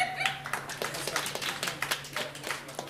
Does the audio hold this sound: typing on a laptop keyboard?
no